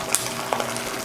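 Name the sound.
boiling water poured over freeze-dried green beans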